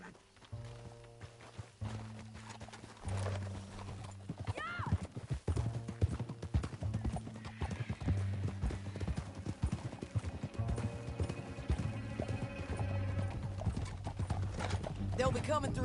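Hooves clip-clop in a fast, steady galloping rhythm in Red Dead Redemption 2, with a brief horse whinny and low musical tones underneath, loud and continuous.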